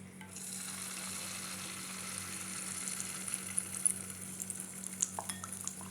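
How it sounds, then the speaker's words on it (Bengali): Malpua batter frying in lightly heated oil in a pan, a steady soft sizzle throughout with a few faint clinks of a round spoon near the end; no one speaks. "এখন আমি মালপোয়া ভাজবো।"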